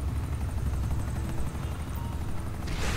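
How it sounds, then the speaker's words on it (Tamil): A helicopter in Grand Theft Auto V comes down to land, its rotor throbbing in a loud, steady low chop with turbine whine overhead and a burst of rushing wash near the end. "ஆறு இறங்குது பாரு ஹெலிகாப்டர்"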